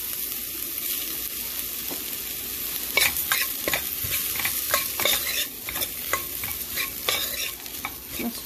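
Flax seeds and oats dry roasting in a pan, with a soft continuous hiss and then a busy run of scraping stirs and light clatter that grows denser midway, close and fairly quiet, with no talk.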